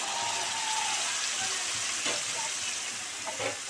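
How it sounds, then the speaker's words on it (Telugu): Tamarind juice goes into a hot pan of fish curry, which keeps up a constant bubbling sizzle with a few faint stirring clinks near the end. "తర్వాత ఇందులో చింతపండు రసం వేసుకోవాలి చింతపండు రసం వేసుకున్నాను"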